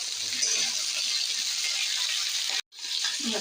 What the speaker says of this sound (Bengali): ডাঁটা, বিনস আর সিমগুলো আলুর সাথে একটু ভেজে নেব।